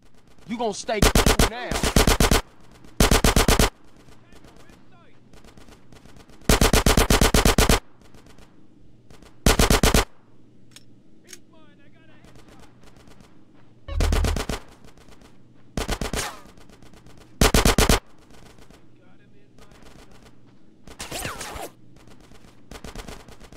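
Gunfire in the video game GTA San Andreas during a gang mission, loud bursts of automatic fire coming in short clusters separated by quieter gaps, close and harsh, with faint game voices between volleys.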